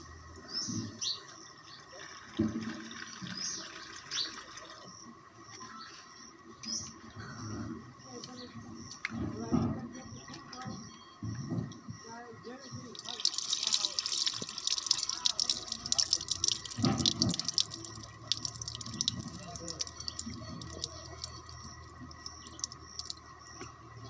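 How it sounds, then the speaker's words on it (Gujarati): Flattened rice (poha) rinsed under running water in a kitchen, intermittent splashing and trickling that swells into a louder, brighter gush in the second half, with a few birds chirping faintly in the background. "પૌવા ધોઈ નાખીએ"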